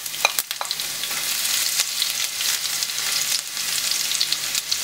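Dried chilies, cumin seeds and garlic fry in hot oil while cooking mixed dal, making a loud, bright sizzle with scattered crackles and pops near the start. The frying settles into a steady spitting hiss with light stirring and no speech.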